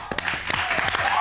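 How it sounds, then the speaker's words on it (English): A female studio audience applauds on a talk show, a dense, loud burst of clapping that fills the short moment with no one talking over it. "Listen to the sound of that female applause in the studio."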